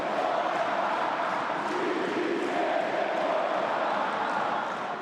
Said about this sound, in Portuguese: E com o passar do tempo, as vaias começaram a aparecer.